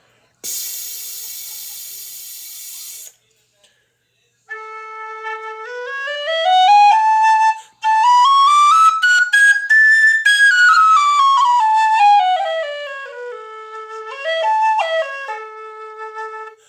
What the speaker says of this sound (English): Playing a lot of different whistles with different breath requirements